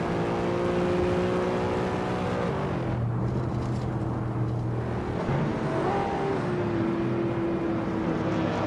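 A 1996 Dodge Stealth RT Turbo engine in a racing video game, a steady droning whine that dips and shifts pitch midway as gears change, moderately loud and continuous with no voices.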